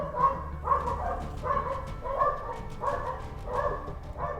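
A dog barks repeatedly at night outdoors, about seven evenly spaced barks at moderate distance against a faint background hum.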